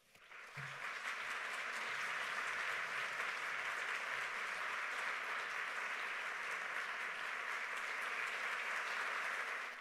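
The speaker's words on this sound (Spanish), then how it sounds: "les pido que lo recibamos con un fuerte aplauso" Sustained audience applause at an evening conference on artificial intelligence, welcoming the speaker to the stage; steady, dense clapping from a large room holds at an even level throughout.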